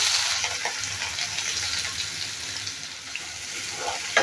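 Two medium onions, finely chopped, sizzle steadily in hot oil with mustard seeds and cumin, a constant close hiss with a few soft stirring clicks and no voices.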